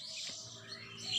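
A small bird chirps faintly in a quiet outdoor setting, with soft high tweets over a low steady background and no voices.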